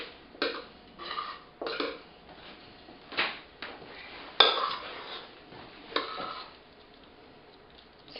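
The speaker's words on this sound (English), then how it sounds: "I'm going to take the whipped potatoes and I'm going to put them in this oven-safe bowl" Whipped potatoes are spooned into an oven-safe bowl, giving quiet, close scrapes and soft clinks of a utensil against the dish at irregular intervals.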